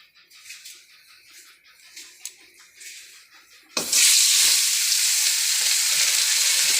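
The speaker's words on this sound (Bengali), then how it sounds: "এই যে কড়াইতে তেল দিয়ে দিয়েছি তেলটা গরম হয়ে গেছে আর মাছটা দেবো" Tengra fish dropped into hot oil in a wok bursts into a loud, sustained sizzle after a few seconds of quiet handling clatter, holding steady to the end.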